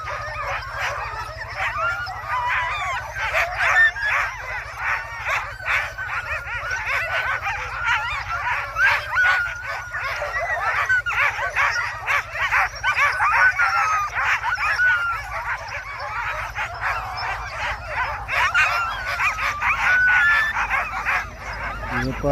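A pack of sled dogs in Ilulissat, Greenland, barking, yipping and whining continuously, a dense chorus of many overlapping voices heard outdoors at moderate distance.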